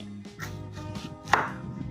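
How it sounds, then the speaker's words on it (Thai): A knife chops lemongrass on a board in quick, close, thudding strokes, about half a dozen in two seconds, with no talking. "ก่อนอื่นเราต้องหั่นตะไคร้"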